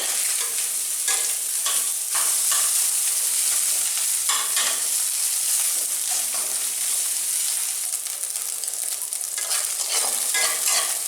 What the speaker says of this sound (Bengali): এটা কাতলা মাছের ডিম, যে কোনো মাছের ডিমে এইভাবে ভাজা যায়